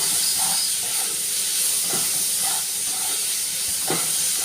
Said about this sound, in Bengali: তো ভালো করে নাড়াচাড়া করে পেঁপে আলুটাকে পেঁয়াজের সাথে ভেজে নেব।